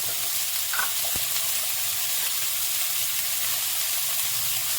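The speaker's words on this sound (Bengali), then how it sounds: "এবার একটু ভালো করে একটু নুন হলুদ দিয়ে দেবো একটু, তারপরে ভালো করে একটু ঢেকে ঢেকে ভেজে নেব।" Bhetki fish frying in a wok with salt and turmeric, a dense steady sizzle and hiss filling the whole stretch at close range, with a couple of faint clinks and no voices.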